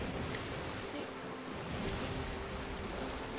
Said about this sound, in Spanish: El agua está turbulenta